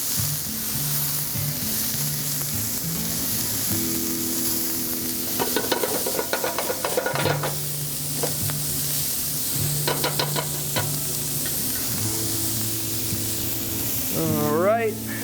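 Garlic and mirepoix sizzle steadily in a pan, a constant hiss broken by louder bursts of stirring and scraping, with a few clinks near the end and no talk.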